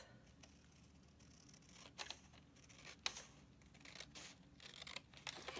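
Scissors cutting Christmas-patterned cardstock, heard as faint, close snips and paper rustles spread unevenly through a quiet room, with no talking.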